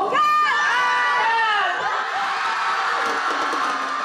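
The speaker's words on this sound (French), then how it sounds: "Entre émotion et acclamation, la jeune femme de 23 ans a été élue devant plus de 1000 spectateurs." A large audience of over a thousand spectators cheers and screams at the Miss Punaauia pageant in Polynesia, loud whoops and high shrieks swelling at the start and then settling into a sustained roar.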